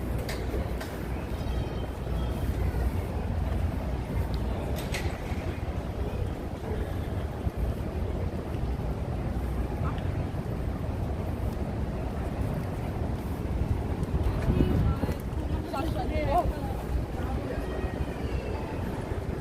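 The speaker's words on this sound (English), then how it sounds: "it's kind of windy" Steady wind buffets the microphone in a constant low roar on Fifth Avenue in New York City, with faint street noise and occasional voices underneath.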